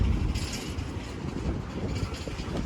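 A very long freight train rolls past at International Bridge on Unity Island, giving a continuous loud, broadband rumble of wagons with a steady rail clatter, close by and without a break.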